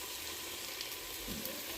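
Beef for stew sizzles steadily in a hot pan, a dense crackling hiss that stays even and fairly loud throughout, with no voices.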